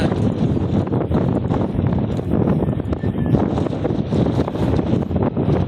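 Strong wind roars steadily against the microphone in a continuous, loud buffeting rush with no pauses, on a city rooftop in Tagaytay.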